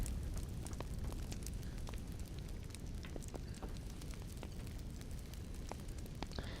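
A large fire roars and crackles steadily inside a mead hall in The Lord of the Rings Online, with a dense rumbling bed and scattered sharp pops throughout, fairly close and continuous with no talking.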